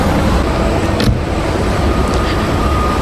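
A car with a 1.6 liter engine runs at a steady idle, giving a loud, continuous drone with a brief clatter near the start and no talking.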